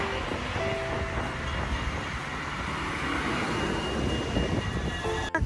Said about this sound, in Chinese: 我们现在在等电车